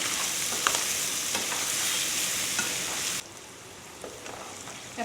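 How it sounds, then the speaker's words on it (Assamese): Turmeric, Kashmiri chili and garam masala fry with local chicken in a pan, a loud steady sizzle with stirring scrapes that drops abruptly to a quieter simmer partway through. "হালধি, অকণমান কাশ্মীৰী মিৰ্চ, অকণমান গৰম মছলা, এইখিনি ৰঙচুৱা হোৱালৈকে ফ্ৰাই কৰি ল'ম"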